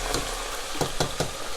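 French fries deep-fry in hot oil with a loud, dense, close sizzle, and a few sharp clinks of a metal spoon knock through it.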